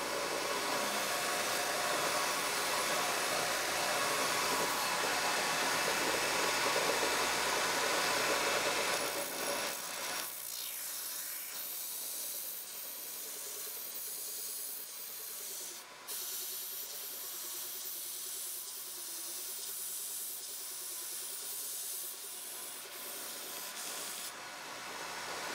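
A converted Jiffy belt sander runs with a steady broadband hiss and whir, close and fairly loud, then its tone shifts and thins partway through as it continues running, with no voices.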